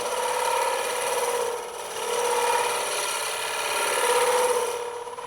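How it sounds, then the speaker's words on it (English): A woodturning lathe cutting wood at the base of a handbell ornament, with a steady, close, continuous scraping rasp that dips briefly midway and then carries on without pause, and no talk. "we're just going to remove a little bit of wood right there at the bottom."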